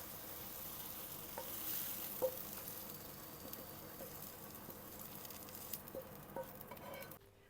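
Mushrooms fry in a pan with a faint, continuous crackle and patter, and a few light clicks are heard as they are stirred.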